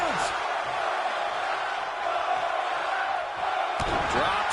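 Arena crowd in the WWE 2K24 wrestling video game roaring in a sustained wash of cheering, with a brief thud near the end and commentary voices layered over it.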